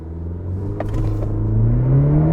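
Cadillac CT4 held on a brake-torque launch with traction control off, its engine droning loud and close, then climbing steadily in pitch as the car accelerates.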